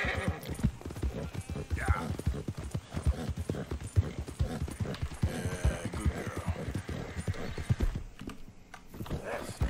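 Steady black horse hooves clip-clop at a brisk rhythm in Red Dead Redemption 2, mixed with an occasional whinny and some game background noise, with no talking.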